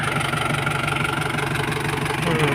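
An old Nissan Big M pickup engine idles steadily at close range, smooth and even with no stumbles, a faint higher whine running above it.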